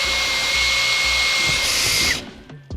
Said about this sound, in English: so to do that we will use our drill